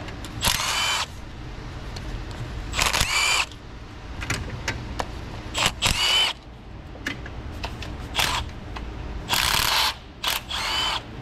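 Air ratchet or impact tool unbolting a fastener on a Toyota 3.3 V6 engine fires in several short, sharp bursts of about a second each, with quiet pauses between them, loud and close.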